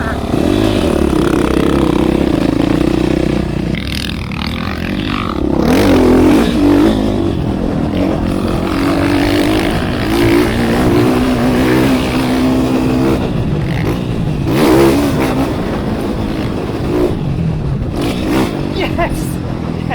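Motocross dirt bike ridden at full throttle, a loud continuous engine roar with rising and falling revs throughout, close by, with voices talking over it.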